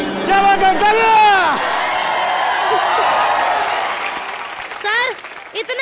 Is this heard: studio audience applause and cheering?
yes